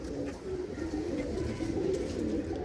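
Pigeons coo steadily in a low, murmuring run of overlapping calls, fairly close and continuous, with no talk over them.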